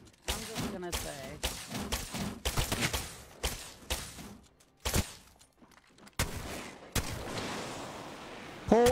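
Rapid gunfire from a high-fire-rate weapon in a video game comes in loud, close bursts of fast shots separated by short pauses, with voices talking in between.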